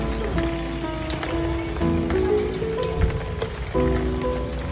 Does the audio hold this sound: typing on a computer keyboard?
no